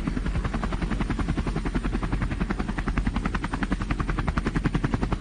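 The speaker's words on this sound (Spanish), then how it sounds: "Esta es la pista donde aterriza el helicóptero con el paciente." A medical helicopter lands on a hospital helipad while bringing in a patient, its rotor chopping loud and steady throughout with dense, rapid blade thumps over a constant engine roar.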